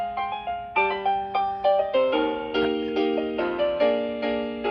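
A demo song plays on a V-top folding 88-key travel piano: bright, clear piano notes and chords in a steady, lively rhythm, close and unaccompanied by talk.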